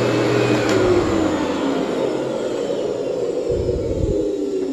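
A vacuum cleaner runs steadily close by, a loud continuous motor roar and airflow whoosh with a brief low thump near the end, no voices.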